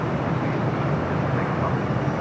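An Antonov An-124 rolls down the runway at LAX, its jet engines a dense, steady roar that fills the air without pause.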